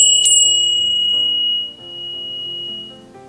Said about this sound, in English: You ring the bell for the third time.